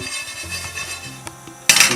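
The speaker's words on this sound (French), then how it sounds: "vous les laissez un petit peu au-dessus du feu et vous les remuez à peu près toutes les 15-20 secondes" A utensil scrapes and taps against a pan while chopped cashew nuts toast over medium heat, with a few soft clinks and scrapes ending in a louder rustling stir, close and with no voices.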